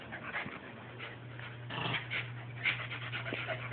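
Dogs playing indoors, whimpering and yipping in short bursts over a low steady hum, with faint panting and scuffling between the cries.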